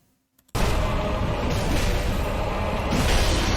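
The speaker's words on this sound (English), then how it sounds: "I'm pretty sure that's the sound of the bracelet breaking." In a video game, High Lord Wolnir's bracelet breaks: after near silence, a sudden loud crash erupts into a sustained roaring, rumbling burst that holds at full intensity.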